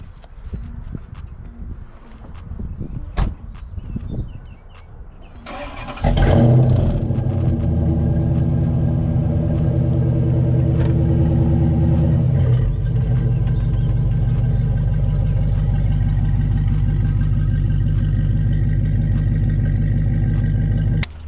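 A Dodge Challenger SRT8 fitted with a diffuser starts up and drives off a ramp. Faint shuffling gives way to a loud, deep V8 rumble that holds steady and close, with a shift in tone partway through.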